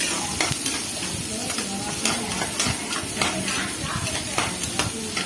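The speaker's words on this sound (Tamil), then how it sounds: "நல்லா இது மாதிரி கிண்டிக்கிட்டே இருக்கணும்" Vermicelli (semiya) frying with onion and green chillies in a pan, stirred steadily so a spatula scrapes and taps against the metal over a constant sizzle, close and moderately loud, with no talk over it.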